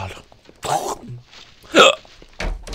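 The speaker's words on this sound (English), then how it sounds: "I got hiccups." A person hiccups sharply several times, the loudest near the end, between bits of casual talk and breaths at close range.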